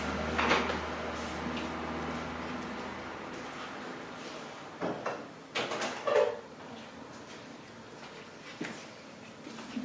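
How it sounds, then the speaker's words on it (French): A door being closed amid steady background noise, with a few thuds, knocks and handling sounds around the middle, then the noise continues softer. "Alors, je vais fermer la porte."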